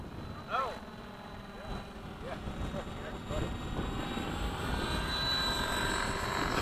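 An F-16 jet landing with its gear down heard from outside as a broad, steady engine roar that builds and holds loud throughout, with brief voices near the start.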